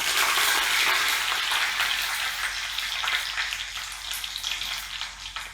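Tadka of red chilies broken in half and curry leaves sizzling in hot oil, a dense steady crackle and hiss that starts loud and eases off slightly over the few seconds, with no talking.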